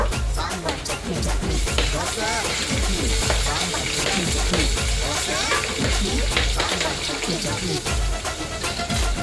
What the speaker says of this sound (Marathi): बारीक गॅसवर कांदा आपल्याला लाल होत भाजून घ्यायचा आहे